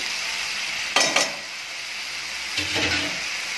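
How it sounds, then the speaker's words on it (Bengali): A spice paste of salt, turmeric and chilli powder with a little water is stirred and fried alongside pointed gourd and prawns, giving a soft hiss with two clattering stirs early on and another scrape later, close up with no talking. "মশলাটা আমি ভালো করে কষে নেব"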